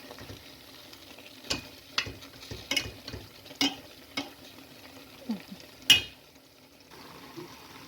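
An egg cooks in oil in a pan while being stirred, a faint low sizzle punctuated by a series of sharp, separate taps and scrapes of the utensil against the pan.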